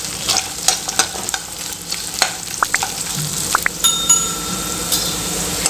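Shallots, garlic and dried sundakkai vathal fry in a pan for vathal kuzhambu, crackling steadily while a spoon stirs with scattered scrapes and light metallic clinks.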